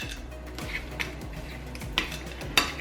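Broccoli tossed with salt and black pepper in a dish before roasting, heard as a few light clinks and scrapes spaced about a second apart over a soft, steady background.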